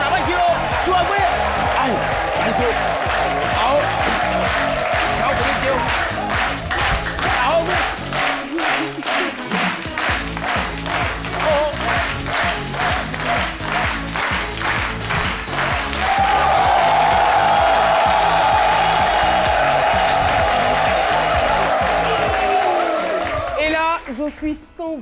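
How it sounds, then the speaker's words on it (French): Studio audience applauding at a live television broadcast on RTI 1, sustained dense clapping and crowd noise throughout, swelling louder in the second half with music underneath. "je voudrais qu'on puisse encore applaudir pour notre docteur en humour"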